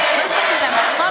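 A packed wrestling arena crowd roars and chants during a national title match, a dense, loud wall of voices throughout with no break.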